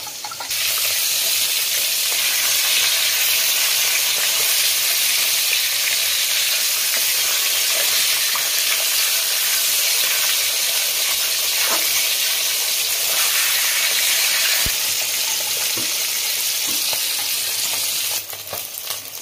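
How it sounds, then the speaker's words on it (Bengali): Pieces of fish for Bengali doi maach fry in hot oil, giving a loud, continuous close-up hiss and sizzle that holds steady throughout, with no talking. "আমার মাছ ভাজাগুলো হয়ে গেছে, আমি সব তুলে নিচ্ছি এক এক করে।"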